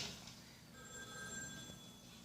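A telephone bell rings in a home where kittens live, a steady electronic trill heard alone with no talk, fairly faint and continuous through most of the moment.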